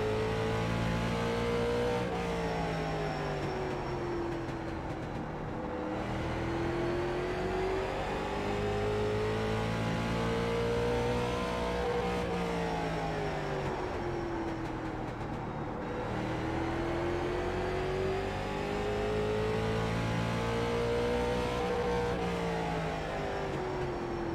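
Late model race cars roar around Martinsville in the iRacing sim, a dense, steady engine drone rising and falling in pitch through laps as cars pack together, loud and continuous without talk.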